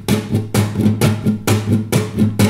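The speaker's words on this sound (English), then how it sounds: "It's like I have 4 guitar picks playing on one guitar at the same time." A guitar strummed with four fingers flicking across the strings at once, giving a full, layered attack; bright, loud strums repeat in a steady rhythm about twice a second, close up and alone.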